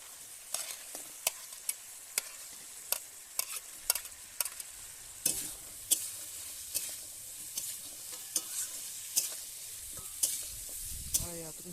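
Peas tipped into a frying spice paste in oil and stirred for a potato and taro dish, with a sizzle throughout and sharp spoon scrapes against the pan at a steady, irregular rhythm. Nobody speaks.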